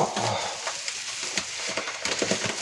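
Malt being stirred by hand into beer wort for an 8-litre Christmas beer kit, a soft, irregular scraping and swishing with faint bubbling, close by and fairly quiet, no voices.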